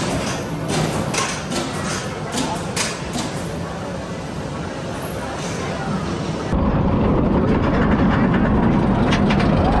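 Kumba roller coaster at Busch Gardens Tampa Bay, a loud continuous roar of the train running on its track with rattling clacks, growing heavier and closer partway through, with voices mixed in.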